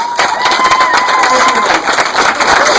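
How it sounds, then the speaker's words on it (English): A film premiere audience at the Pan African Film Festival claps and cheers loudly, with whoops and excited shouts in a dense, continuous burst of crowd noise close by. "give her a big round of applause"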